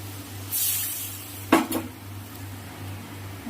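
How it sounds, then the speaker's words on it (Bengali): A metal lid clanks down onto a cooking pot with one sharp knock and a quick rattle, near and fairly loud over a low steady hum and faint simmering. The pot holds a Bengali green banana and prawn curry. "এবার ঢাকা দিয়ে দেবো"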